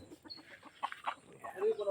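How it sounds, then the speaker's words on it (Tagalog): Native chickens cluck in short, uneven bursts close by, with soft background noise between the calls. "Yung mga native na manok dito."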